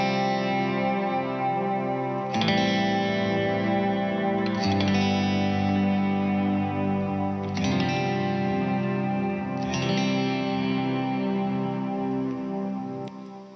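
A sustained electric guitar sound washes out in heavy reverb and delay, with a few strummed chords ringing into each other, loud and ambient.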